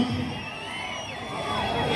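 At a political rally in Rajanagaram, a crowd keeps up a sustained roar of shouting and cheering, a dense wash of voices that swells slightly toward the end.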